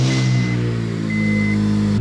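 An Acura RSX Type S engine runs at a steady, loud idle, a close low hum with faint intermittent whine and no speech.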